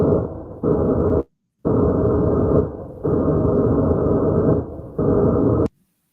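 SB7 Spirit Box radio sweeps slowed to 5% speed, forming a droning, grainy hum in blocky bursts that cut off abruptly with short silent gaps, loud and close.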